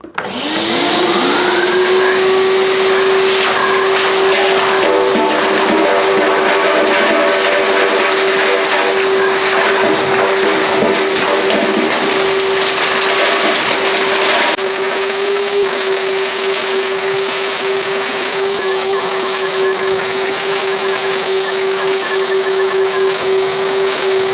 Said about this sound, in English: I'm going to try and vacuum all of this up, which is all metal.